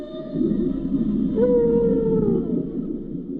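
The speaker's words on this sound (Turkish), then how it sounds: "Kambur balinalar her yıl Virgin Adaları yakınından geçer. Şarkıları inanılmaz karmaşıktır." A humpback whale sings a long rising and falling moan that swells in the middle of the passage, carried over a low ocean rumble near the Virgin Islands, with no voices present.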